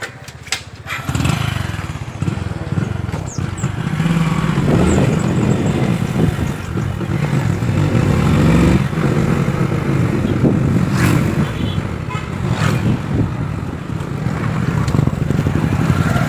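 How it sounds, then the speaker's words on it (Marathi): Motorcycles and cars passing by near a college on a board exam day, a continuous loud engine rumble with revving and passing vehicles, close and busy throughout. "तर तुम्ही बघू शकता किती गाड्या आहेत इथे।"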